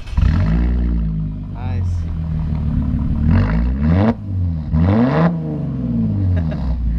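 A car with the muffler and resonator deleted and replaced by straight pipe revs in bursts, its loud exhaust rising and falling under people talking nearby.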